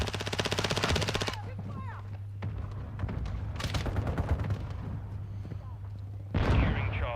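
Call of Duty Modern Warfare II match with loud mortar strike impacts and bursts of gunfire, a rapid rattling volley at the start and heavy booms later, under radio-style game announcer voices.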